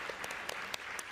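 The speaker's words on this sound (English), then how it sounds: "One last round of applause for Spinn." Applause from a tech-conference audience, a steady wash of many hands clapping at moderate distance, with a few sharper individual claps standing out.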